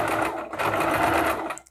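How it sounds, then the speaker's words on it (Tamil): A sewing machine stitches piping in one fast, steady mechanical run that whirs and rattles close up, then stops abruptly. "ஸோ பக்கத்துலேயே ஸ்டிச் பண்ணுங்கள்"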